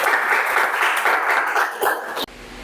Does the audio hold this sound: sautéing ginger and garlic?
no